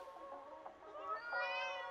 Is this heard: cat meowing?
yes